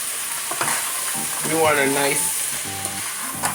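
Beef stew ingredients sautéing with green seasoning in a pot give off a steady broadband sizzle, with stirring scrapes and a few brief tonal clinks partway through.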